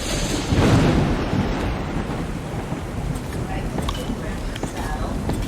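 A thunderstorm in the video game ARK, with a loud rolling thunder boom early on that fades into steady rain and wind noise.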